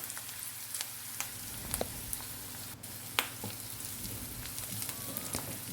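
Onions cook with salt in a pan, a soft continuous sizzle with scattered light crackles and an occasional stir, close and fairly quiet, with no talking over it.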